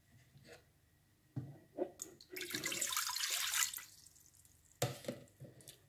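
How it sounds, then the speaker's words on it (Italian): Water is poured into a Cookeo pressure cooker in a close, hissing stream lasting about a second, framed by light handling clinks and taps before and after. "per prima cosa dobbiamo aggiungere l'acqua"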